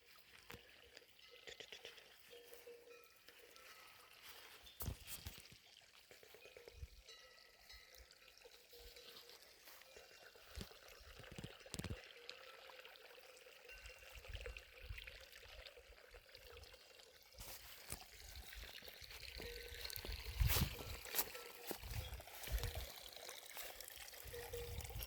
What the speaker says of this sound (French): des sons de l'eau